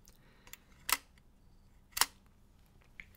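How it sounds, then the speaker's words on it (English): An old vintage camera's mechanical shutter fires twice in quick crisp clicks about a second apart, close and distinct, with a few softer mechanical ticks around them in a quiet room. "But yeah, my shutter still works."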